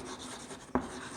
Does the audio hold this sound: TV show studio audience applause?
no